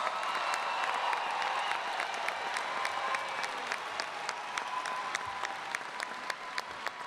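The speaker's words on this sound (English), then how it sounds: "let's give another round of applause for all of our graduates" Sustained applause from a large crowd for graduates at a university commencement, steady dense clapping throughout with a few sharper claps standing out near the end.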